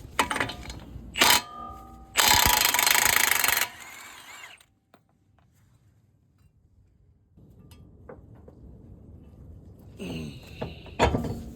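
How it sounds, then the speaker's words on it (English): Power tool whirring in short loud bursts as it drives bolts into the set screw holes of a stubborn wheel bearing, with ratcheting clicks, a quiet pause, then more clattering tool noise. "then I'm gonna see if we have any bolts to drive into the set screw holes"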